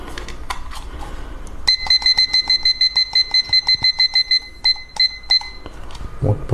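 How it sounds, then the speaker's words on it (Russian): A kitchen timer being set for 20 minutes during macaron making. Quick clicks and taps are followed by a close, loud series of regular high electronic beeps in pairs that stop briefly and then resume. "вот поставил 20 минут таймер, чтобы видно было."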